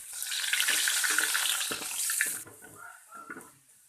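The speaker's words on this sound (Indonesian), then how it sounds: "Kita panaskan minyaknya untuk masak. Yang pertama kita masukin bawang putihnya" Garlic dropped into hot cooking oil for an Indonesian green bean omelette sizzles loudly at first, then the hiss fades into quieter crackles and stirring.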